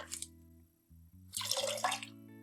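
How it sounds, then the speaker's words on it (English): Pine-Sol cleaner pouring into a bucket of water, heard as a short splash followed by a longer gurgling, bubbling pour, faint and close against a quiet hum. "I am going to add my pine sol in the water"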